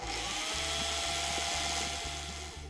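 A rotary tool with coarse sandpaper grinding a hollow into a cork, a steady high-pitched whine with a faint rhythmic pulsing, close and continuous, slightly fading at the end.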